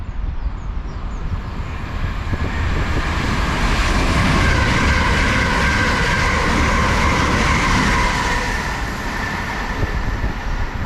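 A Great Northern passenger train from Cambridge to London King's Cross roars steadily through Stevenage station, a continuous loud rumble with rail clatter and a rising hiss at its peak, no talking.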